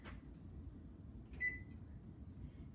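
A kitchen oven timer gives a single short electronic beep midway through, set while baking a lemon yogurt pound cake at 350 degrees, against a quiet room hum.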